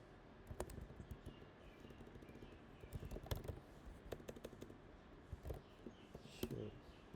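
Code being typed on a computer keyboard, with quick, uneven bursts of soft key clicks and clacks close by, separated by short pauses, and quiet talk in the background.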